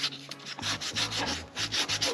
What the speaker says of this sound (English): A light thing of sanding.